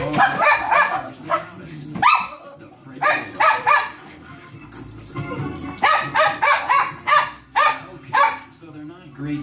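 Dogs on a television program bark in repeated short bursts mixed with yips and whimpers, with a narrator speaking between and over the barks.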